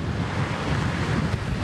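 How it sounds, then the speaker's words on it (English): Big surf pounds offshore during Hurricane Frances. A steady, loud roar of breaking waves is mixed with heavy wind buffeting the microphone, with no talking. "Big waves, the surf breaking way out."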